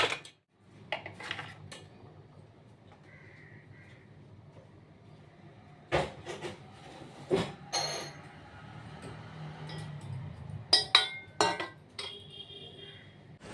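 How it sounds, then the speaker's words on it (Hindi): Dishes, a wok and a griddle clink and clatter as they are put away in a small dining area, with sharp metallic knocks scattered over a low background hum and no talking. "बर्तन हैं, कढ़ाई, तवा। तो ये सारी चीज़ें मैं रख दूँगी।"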